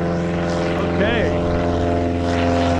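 Propeller plane at a prairie airfield passing close by, a loud steady droning engine with a brief pitch sweep as it goes past, under people talking outdoors.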